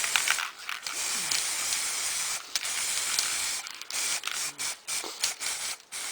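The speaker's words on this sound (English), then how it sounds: "I'm just going to come back and spray paint red over the top" An aerosol can of red spray paint hisses in long, steady bursts onto plexiglass, broken by brief pauses and short sputtering sprays toward the end, close by.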